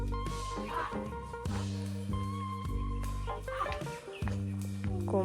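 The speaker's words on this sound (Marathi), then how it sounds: "कोंबडी आहे, कोंबडी" A domestic hen clucks close by at a family home, with a series of short, throaty clucks in a steady run and faint voices in the background.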